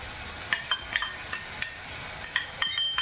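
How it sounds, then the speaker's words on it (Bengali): Capsicum frying in a pan with chopped onion and green chilli, a soft sizzle under sharp clinks and scrapes of a utensil stirring against the pan, several quick knocks spaced irregularly. "ক্যাপসিকামটা একটু ভাজতে লাগবে।"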